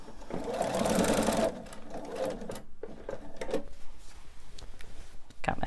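A sewing machine stitches binding on a quilt in a loud, steady whirring run, then stops, followed by softer intermittent bursts of stitching and handling clicks, all close by.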